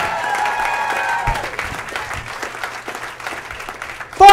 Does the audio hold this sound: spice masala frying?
no